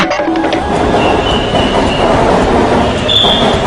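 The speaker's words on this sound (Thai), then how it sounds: "ขึ้นรถไฟฟ้าด้วยเหรอ" An elevated electric skytrain passes close by, loud and steady, with rumbling wheels and brief high-pitched squeals over a continuous roar.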